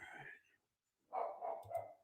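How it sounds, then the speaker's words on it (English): A dog barks a few times in two short bursts separated by a brief silence, fairly close and alone. "It's a dog barking."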